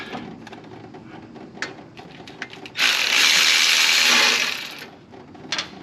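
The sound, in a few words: ratchet removing transmission pan bolts on a 2006 Chevy Express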